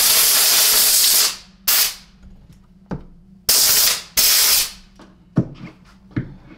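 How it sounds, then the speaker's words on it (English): Compressed air blasts in repeated sharp bursts, some long and some short, against parts of a SEBO ET-C vacuum cleaner power nozzle, with clicks and knocks of handling between them. "A little bit of compressed air."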